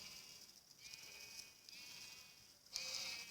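Several synthetic-sounding Minecraft sheep bleats, short and evenly spaced, over a quiet background hum.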